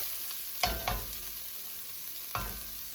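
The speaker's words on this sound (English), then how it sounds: "So it's time to add the garlic." Minced garlic fries in a soup pot with a steady quiet sizzle, and a few sharp scrapes and clinks from stirring come through close by.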